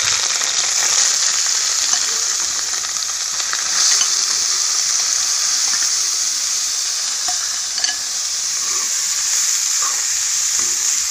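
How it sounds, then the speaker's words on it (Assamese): Paneer fries in ghee in a kadai over a low gas flame, producing a loud, continuous bright sizzle with occasional faint stirring scrapes and no talk. "এই পনীৰখিনি প্ৰথমতে ঘিউত ভাজি ল'ম।"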